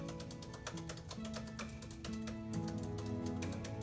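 Steady, fairly quiet clicking of a computer keyboard being typed on with two pointer fingers, a continuous run of close key taps over a faint mechanical hum.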